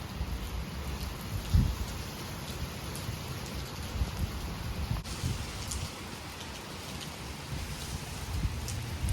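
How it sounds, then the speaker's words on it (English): Rain falling outdoors, a steady dense hiss of drops pattering on surfaces, moderately loud and continuous, with a brief thud partway through. "It's raining."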